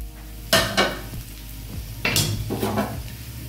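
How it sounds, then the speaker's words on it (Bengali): Vermicelli sizzling in hot ghee in a wok for simui payesh, a steady fry with bursts of stirring and scraping at intervals. "আমি এখন সিমইগুলো দিয়ে দেবো, দিয়ে ভেজে নেব ভালো করে।"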